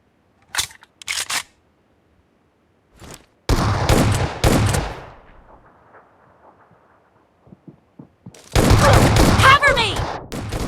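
Shotgun fire in the video game PUBG during an arena match in the ruins: a few sharp, loud blasts separated by gaps, then a dense burst of shots with reverberating tails near the end.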